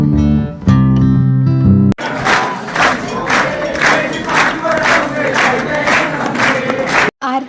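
Crowds of devotees roar and shout in loud rhythmic bursts at a Navratri temple festival for the goddess, following a brief sustained musical tone.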